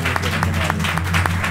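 A church congregation claps together during a New Year service, with brisk, regular rhythmic clapping from many people over a low sustained musical drone, loud and continuous.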